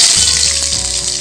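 Loud, steady sizzling of onions dropped into hot oil after mustard seeds have popped, a dense crackling hiss with a low rumble beneath, no voices.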